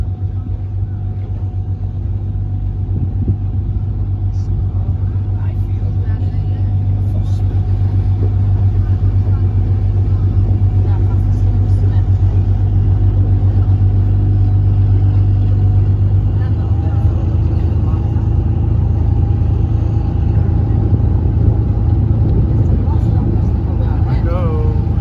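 A sightseeing tour bus in Scarborough drives along with a steady low engine rumble and road noise throughout, loud and continuous, with faint voices in the background.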